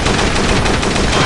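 A big gun blasting in the zombie shooter video game Dead Trigger 2: a short, loud, rapid burst of automatic fire, dense and continuous for about a second.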